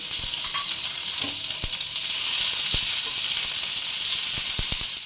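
Cumin seeds and chopped onion sizzle steadily in hot oil for a tempering, a close, loud frying hiss with a few sharp pops and spatters and no talking.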